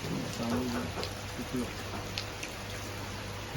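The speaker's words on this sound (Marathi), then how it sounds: "मस्त पैकी बाहेर पाऊस लागता" Steady rain patters in a dense hiss, with faint voices and a low hum underneath.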